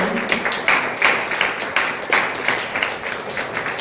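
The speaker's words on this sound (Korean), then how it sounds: "박수" A church congregation applauds graduates during a Sunday worship service, a steady patter of clapping that rises and falls in small surges for a few seconds.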